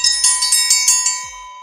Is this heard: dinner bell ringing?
yes